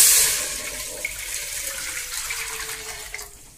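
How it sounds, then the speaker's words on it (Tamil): Thin second- and third-press coconut milk, about half a litre, poured into a heated pot for palkozhukattai, giving a steady close splashing gush that slowly fades, with no talking. "அந்த தண்ணி பாலை ஃபஸ்ட்டு ஆட் பண்ணிடணும்"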